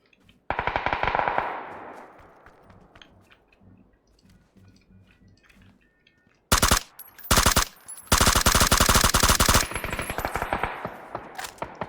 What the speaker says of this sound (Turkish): Şuradan silah sesleri var.